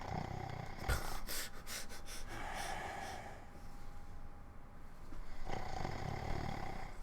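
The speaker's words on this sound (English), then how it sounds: "The even heavier snoring is good." A person asleep snores heavily in slow, rough cycles of rasping inhales, snorts and wheezy exhales, close and fairly loud, with a couple of sharp clicks near the start.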